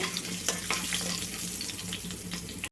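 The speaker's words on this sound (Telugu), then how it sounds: "తాలింపు అయితే వేగాలండి" Crushed garlic and dried red chillies fry as a tempering in hot oil, giving a close, even sizzle with light crackles that runs steadily and then cuts off abruptly.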